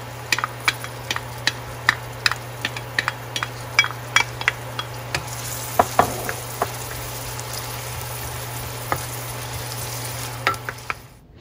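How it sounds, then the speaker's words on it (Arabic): Onion frying in moderately heated oil for an old-style macaroni dish: a steady sizzle runs throughout, broken by frequent sharp crackles and pops, close and fairly loud, with a faint low hum underneath. "بعد ما تسخن الزيت ما خلوهاش تسخن بزاف باش ما تحرقش، غنضيف البصله"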